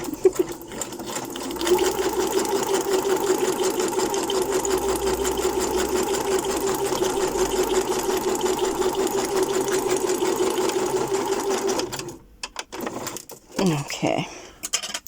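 A sewing machine stitches a handmade journal page in a steady, dense run of needle strokes that lasts about twelve seconds, close and loud, then stops abruptly, leaving a few scattered handling sounds.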